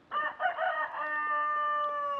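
A Chantecler rooster crows once nearby, a loud crow that breaks into choppy notes at first, then holds a long, even, sustained tone to the end.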